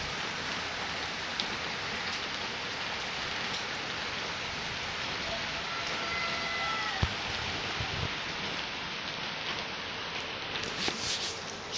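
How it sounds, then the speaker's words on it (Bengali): Steady rain falls outside a window, a constant hiss of drops on surfaces lasting throughout, with a couple of faint knocks and a brief tone in the room partway through. "দেখো বৃষ্টি পড়ে"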